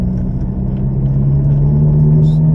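Ferrari sports car engine accelerating, a steady low rumbling drone that holds loud and continuous throughout with little change in pitch, heard close from inside the car.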